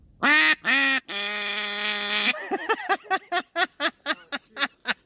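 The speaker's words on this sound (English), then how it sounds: "Hey, look, this is your duck" A duck quacks loudly and close by: two long honking calls, then a sustained drawn-out note, followed by a quick run of about a dozen short, evenly paced quacks. No one speaks over it.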